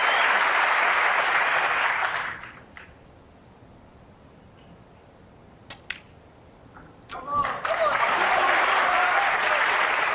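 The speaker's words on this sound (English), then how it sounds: "every ball is being cheered in by this crowd" A snooker crowd at the 2024 Saudi Arabia Masters final between Judd Trump and Mark Williams bursts into loud applause and cheering. It fades to near silence with a few faint clicks, then swells again into strong clapping.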